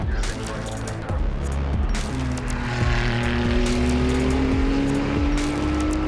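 Ferrari Challenge race cars roaring around a track, with a loud sustained engine drone and shifting revs as cars pass, heard under a commentator's voice.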